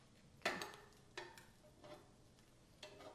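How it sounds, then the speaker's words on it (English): In a frying pan, tofu and plant-based bacon get flipped, giving a few distinct knocks and clinks of a utensil against the pan over a faint sizzle, soft and spaced apart, without speech. "I shall flip our tofu"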